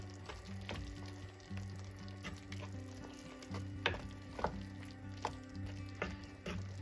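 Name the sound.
stirring tajine sauce with coriander in a pot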